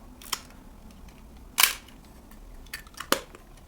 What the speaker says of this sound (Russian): Металлический ламельный затвор.